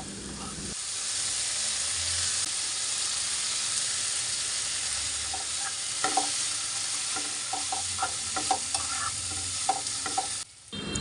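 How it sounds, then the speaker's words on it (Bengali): Ingredients fry in a pan for a hog plum dish before the spices go in, giving a steady, close sizzle that runs throughout, with scattered clinks and scrapes of stirring toward the end. "একটু ভালো করে ভেজে তারপর মশলাগুলো দিয়ে দিব"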